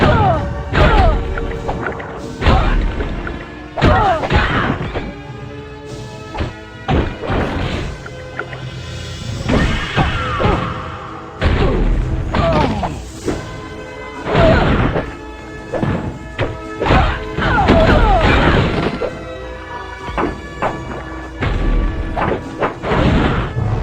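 Repeated smashing crashes, heavy thuds and whacks from sonic emitter machines being destroyed in the Marvel: Ultimate Alliance video game, loud and dense over a game music bed.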